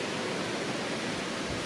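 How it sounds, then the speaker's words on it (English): Steady broadband rush of a waterfall beside a theme park ride through mountains and caves, continuous and fairly loud with no talk. "There's the water. Yep. Waterfall there."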